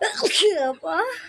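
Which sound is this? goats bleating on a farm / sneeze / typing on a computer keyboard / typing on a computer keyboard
sneeze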